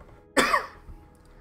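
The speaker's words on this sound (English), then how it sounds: "Jesus Christ, I wasn't coughing this much." One sharp, close cough bursts out and quickly fades, with a faint softer sound just after it.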